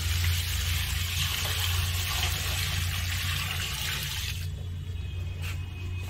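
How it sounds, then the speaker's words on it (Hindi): Boiled hot water pours into an automatic washing machine, a steady rushing splash that carries on for several seconds before thinning out into quieter trickling. "अब गर्म पानी जो है वो इसमें डालने वाली हूँ क्योंकि ये काफ़ी बॉयल पानी है"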